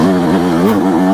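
Yamaha YZ125X two-stroke dirt bike engine running on a trail, a steady close mid-pitched drone with rising and falling revs through a short stretch.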